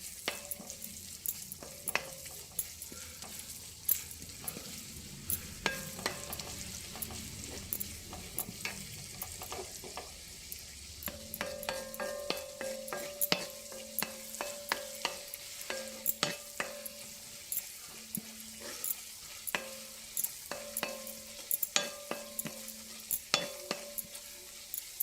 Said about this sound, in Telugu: ఉల్లిపాయ బాగా వేగాలి.